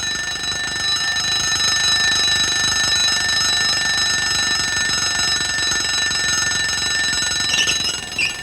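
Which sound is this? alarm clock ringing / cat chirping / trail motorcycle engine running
alarm clock ringing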